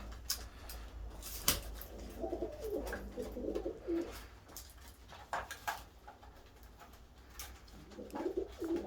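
Pigeons coo softly in repeated low, rolling bursts inside a coop, with occasional sharp knocks and wing-like rustles close by.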